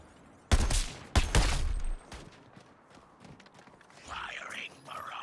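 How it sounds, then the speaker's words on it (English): A weapon barrage firing in the Suicide Squad video game: two sharp, loud blasts in quick succession, each trailing into a brief rumble, followed by quieter mechanical clatter and distant game sounds. "Firing barrage on Vex."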